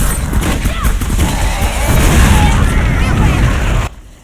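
An explosive cultist blows up in the video game Clive Barker's Jericho: a loud, sustained rumbling blast with crackling bursts that cuts off abruptly near the end, with voices mixed into the game noise.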